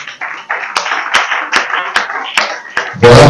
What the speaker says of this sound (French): Voilà, nous acclamons pour le Seigneur.